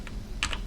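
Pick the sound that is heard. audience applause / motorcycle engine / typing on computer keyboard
typing on computer keyboard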